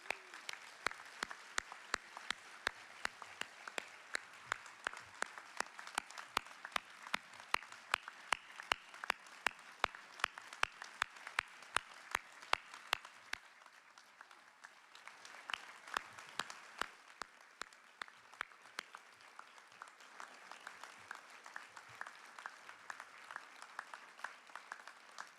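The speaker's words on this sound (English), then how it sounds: "Let's give them a round of applause" Faint, distant audience applause during a 2022 State of the City address, honoring police and fire departments: a long, continuous patter of sharp individual claps that dips briefly midway before resuming.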